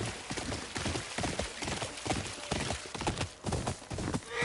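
A horse gallops in the video game Ghost of Yotei with rapid, steady hoofbeats that stay close and prominent throughout, and a faint voice sits underneath.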